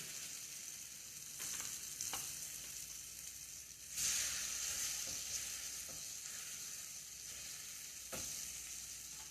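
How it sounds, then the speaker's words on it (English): Chicken sizzles steadily in hot oil, a constant crackling hiss that flares louder partway through, with occasional clicks of utensils. "in goes our chicken. Hear that sizzle."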